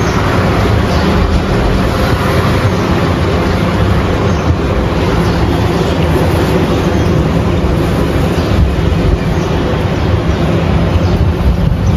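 A metro train ride with a steady, loud rolling rumble and rushing noise carrying on throughout, no voices present.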